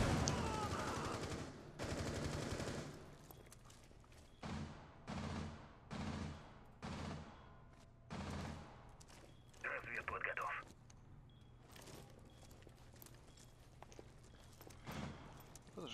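Gunfire in the video game Rainbow Six Siege comes as repeated bursts of automatic shots with pauses between, fairly quiet and mixed with footsteps and voices talking.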